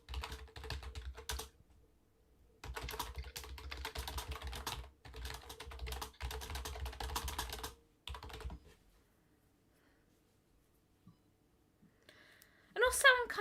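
Steady rapid clicking of typing on a computer keyboard, close and fairly loud, in several long runs separated by pauses, with a brief different sound near the end.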